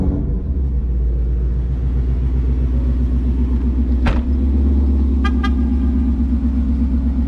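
Infiniti Q50 Red Sport with Corsa headers and performance mods runs with a loud, steady low exhaust rumble throughout, a sharp transient near the middle and two brief high chirps just after.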